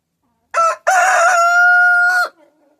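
A rooster crows loudly and close by in the morning during feeding time, one long drawn-out call after a short opening note, with no talk over it.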